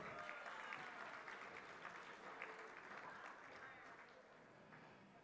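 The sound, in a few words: applause for Blair Paul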